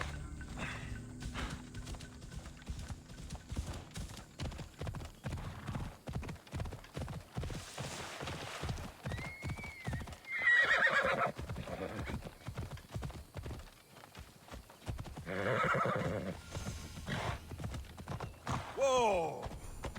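A horse in Assassin's Creed Odyssey gallops with quick rhythmic hoofbeats, then whinnies twice in loud, shrill neighs over the running, with a voice speaking briefly amid the hooves.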